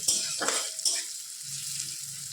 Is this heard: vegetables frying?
yes